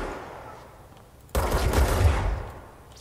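A burst of gunfire in the video game Control: a sudden loud, dense rattle of shots that starts abruptly after quiet ambience, holds for about a second, then fades out, with no voices.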